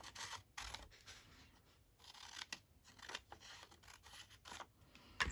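Paper being cut down to size with scissors for a craft tag pocket, a series of quiet, close snips and rustles spaced irregularly, alone without talk.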